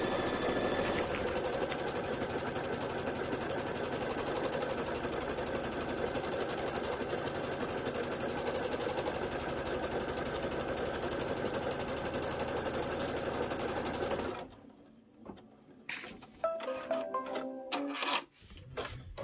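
An embroidery machine stitches a seasonal table runner template, running as a fast, steady mechanical rattle for about fourteen seconds before stopping, followed by a few scattered handling clicks and thumps.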